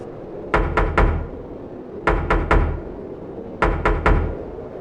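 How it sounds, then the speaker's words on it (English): Soft knocks on a truck cab door on a mountain pass in Vietnam, heard as three evenly spaced clusters of three quick, close, dull raps with quiet pauses between each set. "they hear 3 soft knocks on the cab door."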